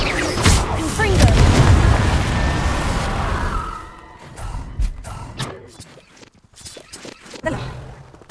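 A Confringo fire curse blasts in the Hogwarts Legacy video game, a loud booming explosion that rumbles for a few seconds before fading into scattered thuds and softer game sounds.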